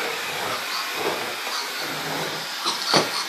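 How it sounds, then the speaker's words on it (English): A vacuum cleaner runs steadily while vacuuming a lawnmower at a grandmother's house, giving a continuous close whooshing drone, with a couple of brief knocks and bumps near the end. "You vacuuming the lawnmower?"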